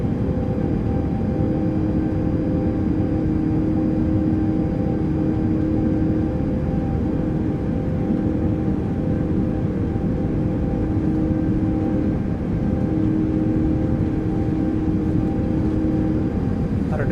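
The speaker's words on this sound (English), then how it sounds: "Alright, set takeoff thrust" ToLiss A330-900 jet engines spool up to takeoff thrust in a flight simulator, a loud, steady roar with a sustained whine that holds unbroken throughout.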